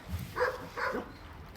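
A military man's dog left with volunteers in Odesa gives two short, close barks in quick succession, followed by quiet.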